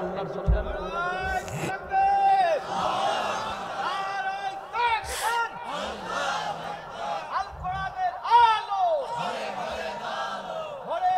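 A large crowd at an outdoor religious rally chants the takbir, Allahu Akbar, in loud repeated surging shouts with voices rising and falling together over several rounds.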